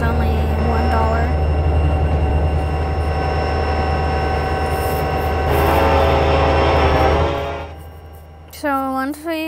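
Diesel locomotive cab ride in the Trainz simulator, a Union Pacific SD70ACE numbered 1989 leading a double-stack container train, with a steady low engine drone and rail rumble. The rumble swells briefly near the end, then fades, and a voice speaks at the close.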